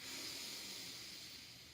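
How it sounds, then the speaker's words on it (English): Ujjayi breathing through the nose during a twisting yoga flow: one faint, steady, airy hiss of breath, close and unbroken for under two seconds, with no talking. "stoking up your ujjayi breathing"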